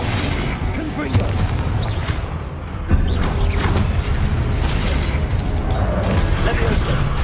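Confringo fire spell blasts in the Hogwarts Legacy video game, a dense run of booming bursts and pops layered over continuous game sounds and music, loud and busy throughout.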